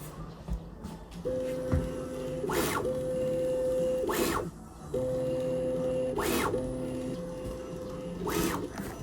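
Multicolor 3D printer laying down silk filament, its stepper motors whining in sustained tones with steady buzzing, broken by four loud periodic whooshing bursts; no talking.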